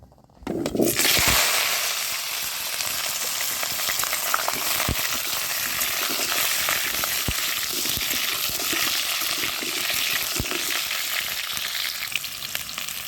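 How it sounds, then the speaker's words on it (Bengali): Potatoes frying in a pan with a pinch of salt, starting with a sudden loud burst of sizzle as they go into the hot oil, then a constant crackling fry with occasional sharp pops and stirring. "আলুটা ভাজার সময় সামান্য একটু লবণ দিয়ে দিলাম।"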